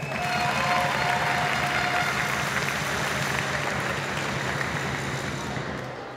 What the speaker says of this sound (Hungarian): Most pedig fogadják nagy tapsal a házigazdák válogatottját.